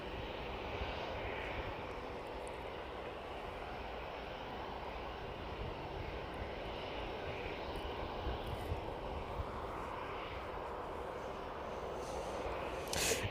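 A Ryanair airliner departing East Midlands Airport, a faint, steady distant engine rumble holding evenly throughout with no speech over it.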